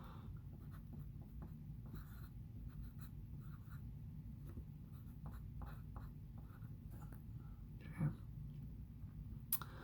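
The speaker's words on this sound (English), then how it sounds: "And I'm actually going to write that up here." A pen scratches across paper in short, quiet strokes with soft clicks and taps, close and faint, with a brief louder tap near the end.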